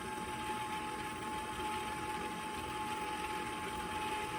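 An electric mixer blends banana cake batter after flour and the dry mixture go into the wet ingredients, giving a steady, continuous motor drone at an even level throughout with no talking.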